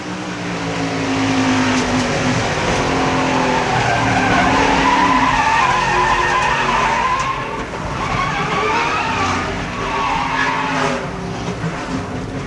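Loud tire squeal and skidding from inside a NASCAR stock car at Pocono in 1993, with the engine droning beneath as the car slides for several seconds.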